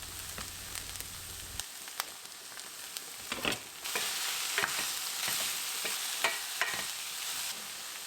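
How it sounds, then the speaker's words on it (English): Onions, garlic and peppers sauté in a pan, with a soft continuous sizzle that swells louder partway through as more goes in, plus scattered stirring clicks and no talking. "after sauteing the onions for a couple of minutes, I'm gonna add the peppers."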